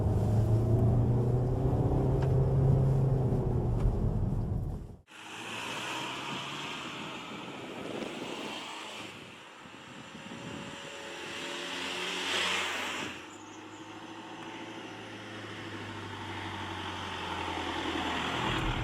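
An SUV with a 7-speed DSG gearbox accelerates on a test drive. A steady engine rumble and road noise are heard from inside the cabin, with an abrupt shift in the sound partway through and a swell under power.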